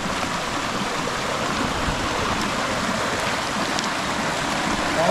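A clear mountain river rushes along in a steady, close, full roar of flowing water, broad and unbroken for the whole stretch, with no talking.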